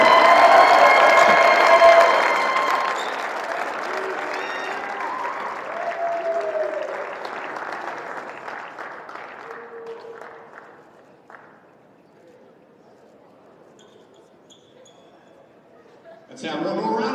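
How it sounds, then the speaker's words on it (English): A basketball arena crowd at a men's college game between MSU Billings and Simon Fraser gives a loud burst of applause that fades to scattered clapping and quiet, with an announcer's voice talking over it and a fresh swell at the end. "have one more round of applause for you"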